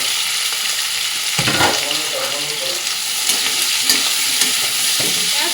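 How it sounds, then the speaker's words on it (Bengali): Onion and capsicum, with cashews and green chillies, frying in a pan as they are stirred, with a steady close sizzle broken by scraping and clinking from the spoon. "হালকা করে পেঁয়াজ আর ক্যাপসিকামটা একটু ভাজা ভাজা করে নেবো"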